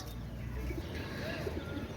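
Soft, low pigeon coos repeat a few times against a steady background hum, faint and fairly close, with no voices.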